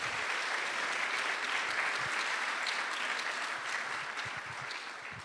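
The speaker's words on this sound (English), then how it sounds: "I want to give a round of applause for Christopher Williams." An audience at a New York talk event applauds for several seconds, a dense steady wash of many hands clapping at moderate distance that slowly tapers toward the end.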